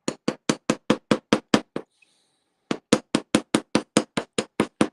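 A metal hammer strikes sheet metal on a block to texture riveted jewelry links, ringing out in a steady fast series of sharp close blows, a brief pause near the middle, then the rapid rhythm resumes.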